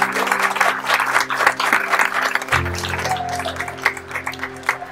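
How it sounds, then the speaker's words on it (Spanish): A church gathering applauds in praise, a loud, dense burst of clapping over sustained musical tones, the clapping thinning out partway through as the music carries on. "Vamos a darle un aplauso a nuestro Señor Jesucristo."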